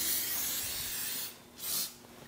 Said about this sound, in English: we're going to spray our rag with cleaner.